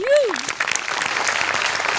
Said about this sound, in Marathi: सगळ्यात आधी प्रचंड टाळ्या गोस्वामींसाठी